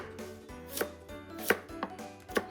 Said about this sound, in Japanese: 最後人参、ちょっと皮むいて、 まず薄切り